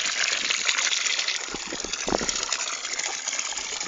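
Ice-cold drinking water pours from a public fountain in a steady, close rushing hiss, with a few dull knocks partway through.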